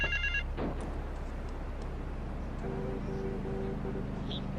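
A payphone in a park rings in the video game GTA 3, with a short electronic ring burst at the start over a low city ambience, followed by a fainter repeating tone later.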